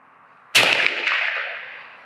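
A single rifle shot cracks sharply after a quiet moment, then a long reverberant tail fades slowly over the next second and a half.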